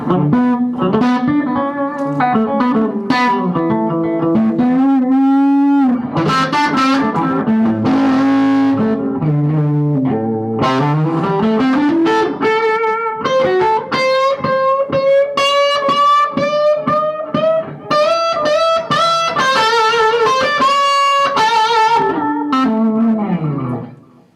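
An electric guitar played through an amplifier rings out in sustained, touch-sensitive melodic lines with bends and shifting tone, loud and continuous with no talking.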